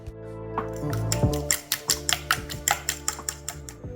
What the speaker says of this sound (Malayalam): ഈ നാല് എഗ്ഗിന് വേണ്ടത്ര ഉപ്പിട്ട് കൊടുത്തിട്ടുണ്ട് പിന്നെ അല്പം മല്ലിയിലും ചേർത്ത് നന്നായിട്ടൊന്ന് ബീറ്റ് ചെയ്യാം